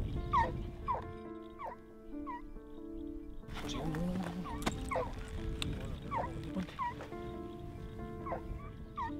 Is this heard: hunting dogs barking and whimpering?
yes